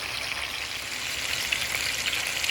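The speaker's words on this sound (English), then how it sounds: "Just keep letting that fat render down a little bit. Let that bacon render down a little bit." Bacon fries in a pan with a dense, steady sizzle and crackle as the fat renders, close and continuous with no talk over it.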